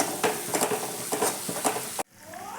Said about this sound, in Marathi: जिरे घेतले आता पत्ता इथे यामध्ये मी एक टाकून घेतला आहे तोही आपण त्याच्यामध्ये परतून घेऊया